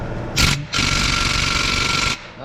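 Power tool whirring on motorcycle exhaust bolts during an Akrapovič titanium full exhaust install on a 2020 Yamaha FZ/MT-07, a short burst followed by a longer steady run, loud and close.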